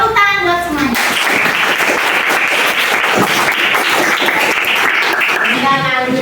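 Dense, steady applause from a classroom audience of students at a teacher-training competency exam fills the whole stretch, loud and continuous, with a voice talking briefly at the start and end.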